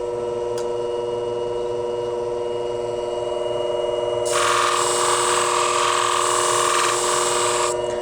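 A shear blade is ground on a worn 800 grit wheel, giving a steady bright hiss that starts abruptly partway through and holds evenly for several seconds over a constant motor hum.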